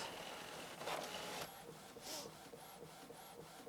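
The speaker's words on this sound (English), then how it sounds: "Well, it's making what I'd call printing noises." An Epson ET-8550 inkjet printer at work during initial setup, with soft mechanical whirring, faint rubbing and a few brief high whines from the print head moving back and forth.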